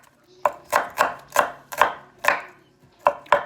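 A knife chopping an onion on a cutting board, eight crisp, evenly paced close thuds with brief pauses between them, no talking.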